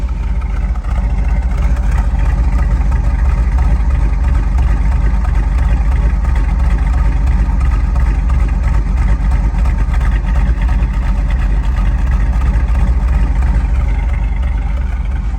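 A 1968 Ford Mustang R-code Cobra Jet coupe with four-speed gearbox idles with its choke off, a steady, loud, continuous low rumble that holds unchanged throughout with no talking.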